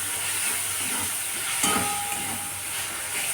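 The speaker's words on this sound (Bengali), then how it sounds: "এবার এটা ভালো করে কষিয়ে নিচ্ছি।" Potato and soybean masala frying in a pan, a steady broadband sizzle with a brief scrape of stirring partway through, close and moderately loud, no talking.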